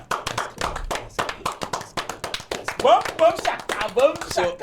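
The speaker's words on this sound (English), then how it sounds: "So why are we clapping?" Hands clapping in a sharp, steady rhythm of separate claps, close up, with someone talking over them throughout.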